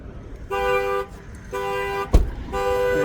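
Car horn sounds in three repeated bursts about half a second to a second long, with a sharp knock between the second and third, loud and close with no talk over it.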